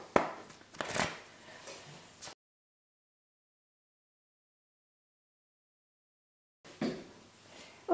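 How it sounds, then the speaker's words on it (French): Cards are shuffled and drawn in a few close, soft riffling and sliding bursts, separated by a long stretch of total silence. "Je vais faire un petit accéléré le temps de tirer les cartes."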